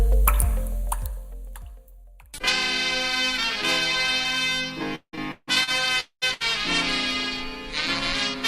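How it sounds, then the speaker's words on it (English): Water drips from a faucet in three or four soft plops at the start before loud music takes over and continues to the end. "One drip every second adds up to 5 gallons per day."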